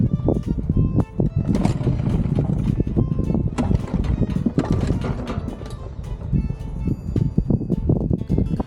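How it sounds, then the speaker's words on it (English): Someone pulls the cord on an old 23-year-old outboard boat motor again and again, giving a series of close, rough mechanical bursts and sputters that never settle into a steady run. "Then we pull the pull cord to start the motor."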